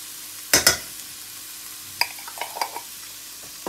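Spoon scrapes and taps in a pan as turmeric is stirred into scrambled tofu, with two sharp clatters near the start, then a quieter run of short scrapes and clicks over a faint background sizzle.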